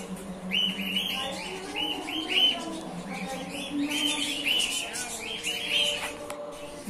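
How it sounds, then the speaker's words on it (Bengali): Budgerigars at a small zoo chirp in quick, bright bursts that repeat every second or so, fairly close, over a faint background murmur. "এই পাখিগুলো হয়েছে বদ্রি।"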